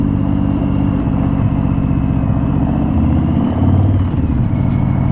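A Harley-Davidson FXDR 114 motorcycle from 2020 with a Milwaukee-Eight 114 cubic inch V-twin runs close and loud, a deep steady idle rumble that rises in brief throttle blips near the end.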